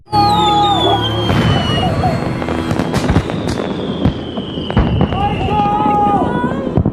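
Fireworks whoosh upward and burst in a rapid series of loud cracks and booms, with whistling rockets and a crowd murmuring underneath.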